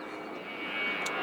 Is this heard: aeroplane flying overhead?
yes